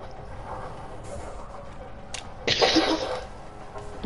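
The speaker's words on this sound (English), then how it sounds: "You coughed and it sounded sarcastic." A single short cough bursts out nearby in the middle of a gaming session, rising sharply above quiet background noise before fading back.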